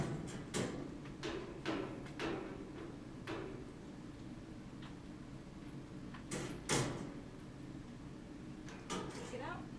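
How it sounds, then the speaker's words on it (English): A metal kennel door in a veterinary clinic is shut with sharp clanks and rattles, several brief impacts spread across the clip around a louder latch clatter near the middle, with a voice speaking in the background. "Close the door."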